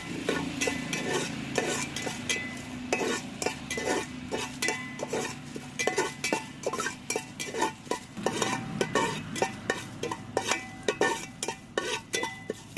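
Seven dried red chillies dry-roasting in a pan, stirred with a metal spatula that scrapes and clinks in a quick, steady rhythm throughout.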